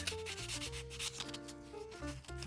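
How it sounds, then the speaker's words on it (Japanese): Sandpaper lightly rubs plastic model kit parts of a Zaku head in short back-and-forth strokes, faint and close, with background music over the scratching. "まず引け処理として軽くヤスリがけをしておきます。"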